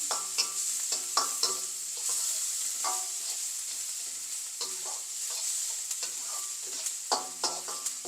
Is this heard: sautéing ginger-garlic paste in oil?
yes